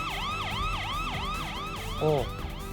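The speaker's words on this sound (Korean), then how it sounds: "앰뷸런스." A wailing ambulance siren sweeps up and down in steady repeated cycles, loud and close, with a brief burst of another tone near the end.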